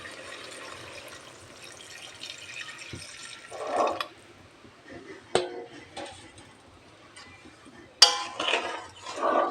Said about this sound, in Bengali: এখন এতে সামান্য পরিমাণ জল দিয়ে দেব।